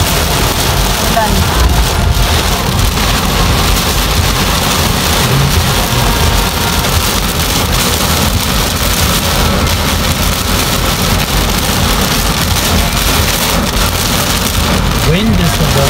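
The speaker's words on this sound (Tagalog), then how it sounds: "Ulan." Heavy rain driven by strong wind pours down on a road in a dense, continuous roar with no pauses.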